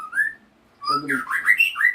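Clear melodic bird song with whistled rising phrases, a brief opening note, a pause, then a rich run of varied warbles and chirps, close and loud.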